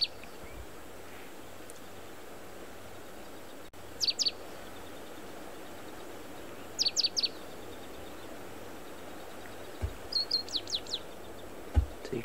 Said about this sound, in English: it's got a short little call that makes a lot of noise